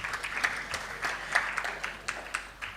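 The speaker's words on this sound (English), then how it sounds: "Let's give our presenters the applause they deserve." An audience at an awards show applauds presenters, a steady wash of clapping from many hands at moderate level, slightly distant and even throughout.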